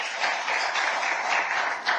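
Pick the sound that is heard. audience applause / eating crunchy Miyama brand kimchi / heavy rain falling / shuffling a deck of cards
audience applause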